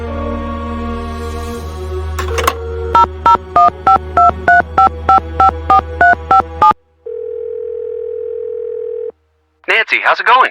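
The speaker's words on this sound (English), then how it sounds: "I'll call you back from the landline." Landline telephone in the Nancy Drew game The Captive Curse: a steady dial tone, then a quick run of about a dozen evenly spaced keypad tones, a pause, another steady tone and a short burst of sound at the end.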